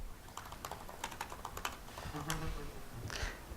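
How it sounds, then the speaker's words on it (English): Typing on a computer keyboard while entering code, a quick irregular run of soft close key clicks, fairly faint, with no talk over it. "Or, for example, I could type in something a bit longer."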